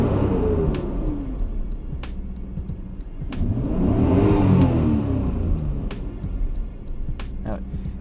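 A stock right-hand-drive Nissan GTR with a completely stock exhaust revs up and settles in repeated swells, engine tone rising and falling over several seconds, loud and close, with a few sharp clicks between pulls.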